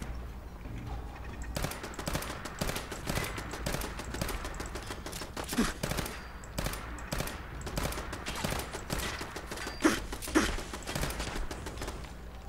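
Incendiary rounds fired in Fallout 4, a dense run of rapid gunshots and bursts that keeps going for most of the stretch, loud and close, with a few sharper individual cracks standing out near the end.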